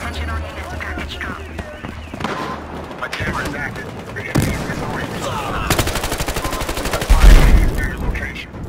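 A gun fires during a Battlefield Hardline match as bursts of rapid shots and some single cracks, with louder automatic fire toward the end, mixed with game noise and players talking.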